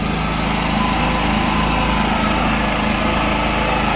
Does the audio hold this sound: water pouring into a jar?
no